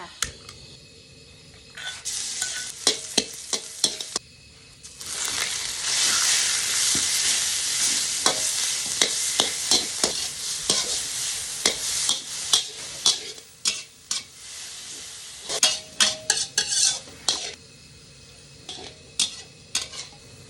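Dried chilies and pounded garlic stir-fry in a pan, a loud sizzling hiss that rises and falls, broken by frequent sharp scrapes and clinks of a spatula on metal, with no voices.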